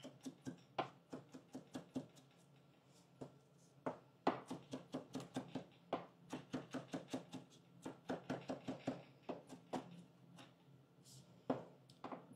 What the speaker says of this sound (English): cilantro is chopping up nicely.